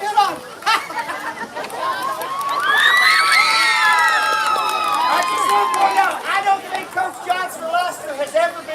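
A crowd at a school pie auction cheers and whoops for the coaches, loud and sustained with shouting voices and chatter mixed in, swelling in the middle before settling back to talk.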